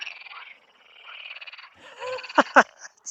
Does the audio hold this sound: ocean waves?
no